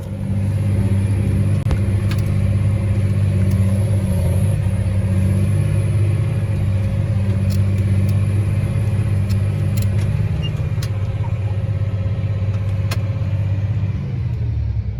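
A strip-till tillage unit drives through a cornfield, a steady loud low engine rumble and drone of machinery continuing for the whole span with scattered faint clicks above it.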